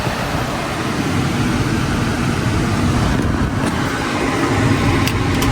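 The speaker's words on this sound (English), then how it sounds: "the AC is blasting because it's hot as hell here in Arizona" Car air conditioning blasting on a hot day in Arizona: a loud, steady broadband rush of blowing air with a low rumble underneath, continuous and close throughout.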